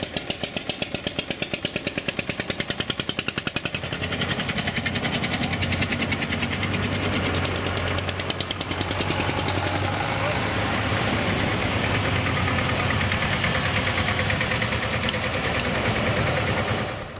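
Old vintage tractors at a classic tractor run in Rietmolen, engines idling and running with a steady rapid thumping pulse throughout, close and continuous.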